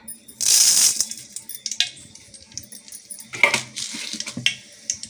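Mustard seeds hit hot oil in a pan and start popping and spattering, opening with a loud sizzling burst followed by scattered crackles and small clinks.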